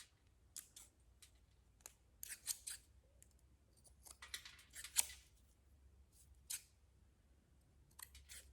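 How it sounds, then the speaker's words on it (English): Scissors snip through plastic aroma bead material while a DIY car freshie is trimmed around its edges, giving sharp, scattered crisp cuts at an irregular pace, very close and quiet in an otherwise silent room. "to cut whatever this material these beads are made out of"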